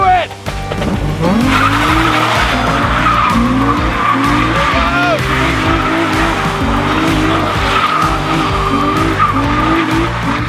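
A car does donuts at a car meet at Mondello Park, its tires squealing and skidding in repeated rising bursts over a revving engine, loud and near, with shouting voices under the noise.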